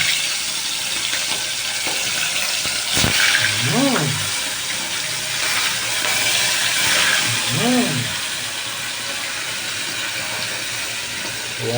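Hasa-hasa fish frying in hot oil in a pan, a steady broadband sizzle and hiss running throughout, with a couple of brief voiced sounds and a sharp clack rising over the constant crackle.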